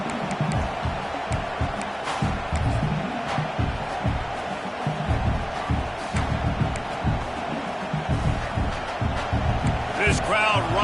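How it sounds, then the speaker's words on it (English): Roaring crowd of fans cheering in an American football video game, a constant loud swell of noise with sharp accents and bursts, and a voice commentating over it throughout. "These fans are going absolutely nuts."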